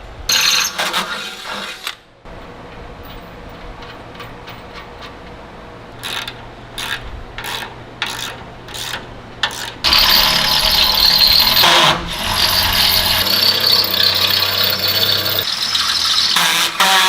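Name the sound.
power drill drilling a hole in Ford E-Series frame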